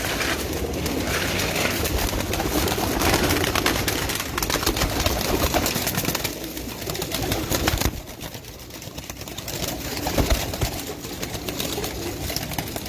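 Pigeons coo steadily in a rooftop loft, a dense chorus of overlapping low throaty calls close by, with occasional wing flutters and no voices.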